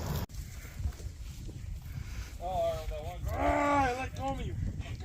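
Cattle at a barn let out a couple of low, drawn-out moos after a quiet stretch, fairly close and loud against a soft background rumble.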